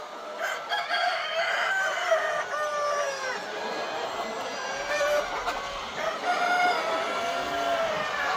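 Hens clucking steadily and a rooster crowing repeatedly at a poultry farm raising Classic-breed pullets about 150 days old that have begun laying, a dense close chorus of fowl with a faint voice underneath.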